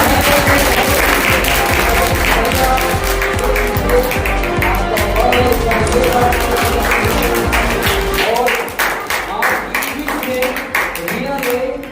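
School audience applauding the winner of a GK quiz, loud dense clapping that fills the room and continues for several seconds before thinning out into scattered claps, with a voice speaking briefly over it.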